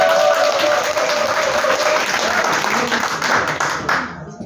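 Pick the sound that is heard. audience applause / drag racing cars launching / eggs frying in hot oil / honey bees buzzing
audience applause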